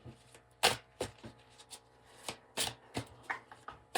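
Tarot cards being shuffled by hand, heard as close, light riffles and soft slaps in an irregular series of short bursts, with no talking.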